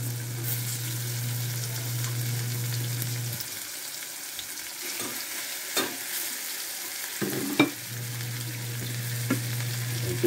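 Yellowfin fish fries in a hot pan for sinigang, a steady crackling sizzle under a low hum, with occasional scraping and stirring clatters, close and moderately quiet.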